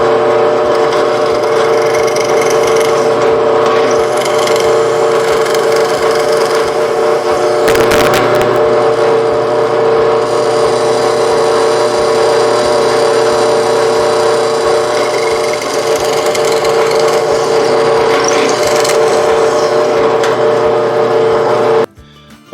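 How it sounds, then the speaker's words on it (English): A drill press turns a 3/4 inch spade bit into wood, counterboring holes about 1 inch deep for a yard trailer handle. A steady, loud motor hum holds throughout with cutting noise on top and no talk, then stops abruptly at the end. "I have a 3/4 inch spade bit in the drill press, and I want to drill, counter bore these about 1 inch deep"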